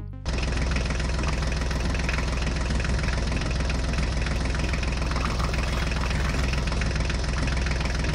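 A small mini tractor engine runs steadily and loudly from start to finish, a continuous close idling chug with a knocking, vibrating low rumble.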